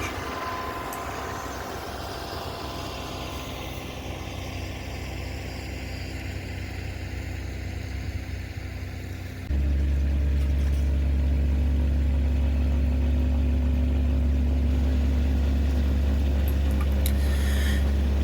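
A Kubota B2401 compact tractor with a rear mounted snowblower runs in snow, a constant mid-pitched engine drone that suddenly grows louder and heavier with a deep, steady rumble partway through.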